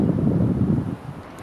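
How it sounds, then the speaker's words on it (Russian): Strong gusting wind buffets the microphone outdoors with low, heavy rumbling roar, easing off slightly near the end; no one speaks. "Ветер очень сильный."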